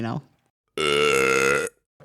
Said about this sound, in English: it's after I belch really loud